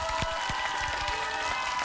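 An audience at a Korean lecture-concert claps steadily, a dense even patter of many hands at moderate distance filling the brief moment without pause.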